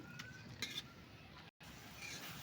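Pasta being stirred in a pan over a wood-fired stove, with faint scraping and light clinks of the utensil against the pan and a soft sizzle underneath, all close and quiet.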